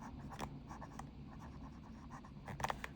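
A Sailor King of Pen fountain pen nib writes on paper with a faint, scratchy feedback, soft strokes repeating close to the ear before a brief burst of quicker scribbles at the end.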